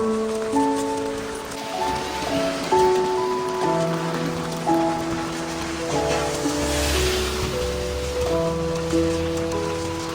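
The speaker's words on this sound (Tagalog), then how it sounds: "Ulan lang, walang tigil na ulan" Steady, unceasing rain falls during a typhoon in Taiwan, a constant hiss of drops on surfaces that runs the whole stretch beneath soft, melodic background music.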